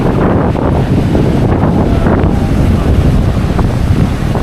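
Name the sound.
strong wind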